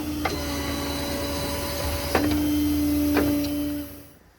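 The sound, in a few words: Stellar 7621 crane outriggers retracting on Ford F550 truck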